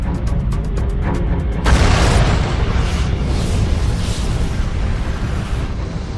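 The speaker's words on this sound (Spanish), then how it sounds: "Una estrella agonizante en la Vía Láctea implosiona y se convierte en supernova." A deep, rumbling explosion effect for a dying star collapsing into a supernova in the Milky Way: a few faint pulses lead into a sudden loud roaring blast that stays dense and sustained to the end.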